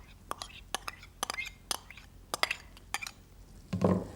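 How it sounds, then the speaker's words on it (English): Metal spoon clinking and scraping in a bowl while egg yolks are folded into egg whites for a soufflé: a run of sharp, light taps and scrapes, close and fairly quiet, with a fuller rustle at the end. "I'm going to fold them in to the egg whites using a metal spoon"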